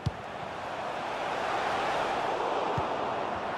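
Stadium crowd noise in the football video game FIFA 23, a broad, continuous roar that swells slightly and sustains throughout, with a faint thump near the start and no commentary over it.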